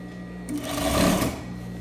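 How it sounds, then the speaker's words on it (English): A sewing machine stitches a half-inch seam on a basic skirt, starting with a brief mechanical clunk and then humming and whirring steadily for about a second, up close against a quiet background hum. "So I'm going to continue to sew a half an inch."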